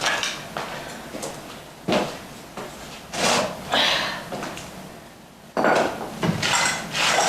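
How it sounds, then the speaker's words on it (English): Repeated hammer blows strike untreated wood at an irregular pace during a 1950 church renovation, each a sharp knock close by, with a steady hiss of background noise between hits. "I'm just going to hammer it in place."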